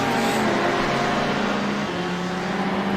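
A race car exhaust roars in the iRacing video game, heard from an onboard camera beside the exhaust, a loud continuous droning engine note that holds steady with a small pitch change partway through.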